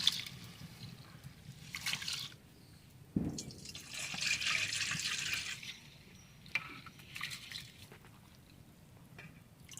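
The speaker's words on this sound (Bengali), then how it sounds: "ধুয়ে দিয়ে একবার ধুয়ে ফেলে দিই।" Rice is rinsed with water in a village kitchen while chicken biryani is being prepared, with sloshing, splashing and dripping close by, rising in brief louder surges.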